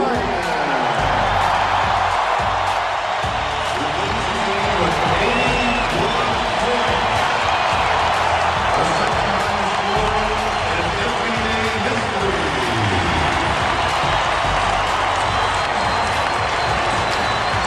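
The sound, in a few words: basketball arena crowd cheering for Kobe Bryant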